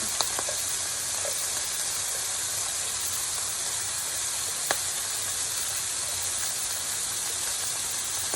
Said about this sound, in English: I'm just going to sprinkle a little water in here.